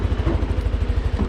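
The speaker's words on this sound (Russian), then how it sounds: "Запускаем двигатель." A small scooter engine runs just after starting, with its variator machined and reassembled: a close, loud, steady low chugging pulse with light mechanical clatter and no talk.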